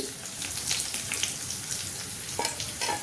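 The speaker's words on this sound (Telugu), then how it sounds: "ముందుగా వెల్లుల్లిపాయలు వేసుకుందాం. ఆయిల్ కాగింది. తర్వాత ఎండుమిర్చి" Garlic and dried red chillies frying in hot oil while tempering for a spinach dal, a continuous close hiss and crackle throughout, with no talking.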